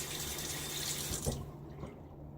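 Water runs steadily from a tap while shaving lather is worked up, a continuous hissing flow that cuts off partway through, leaving a quieter wet trickle and faint handling sounds.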